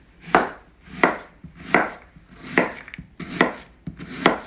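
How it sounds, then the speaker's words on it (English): A sharp knife slices through an onion on a cutting board in six crisp, evenly spaced chops, each a clear close cut with quiet gaps between. "Now I'm just going to slice up that onion."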